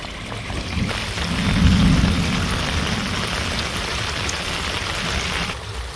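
Heavy rain pours steadily on a Bangladeshi village during a thunderstorm, a broad close hiss with a low rumble of thunder swelling in the first seconds, then continuing without any voices.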